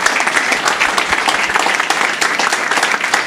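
Church congregation applauding loudly and steadily, a dense patter of many hands clapping without pause.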